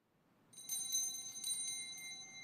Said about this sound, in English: It is also customary for the server to ring a bell as they enter to alert the people that Mass is beginning